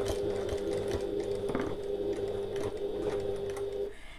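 A sewing machine runs steadily while stitching the fabric of an oval bag, a continuous motor whir with rapid needle clatter that carries on for about four seconds and then stops abruptly near the end.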